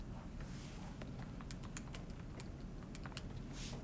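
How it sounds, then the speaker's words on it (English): Soft clicking of buttons pressed on a calculator during a geometry math lesson, a run of quick faint taps over a steady background hiss, with no voice. "you might hear me typing on my calculator in the background"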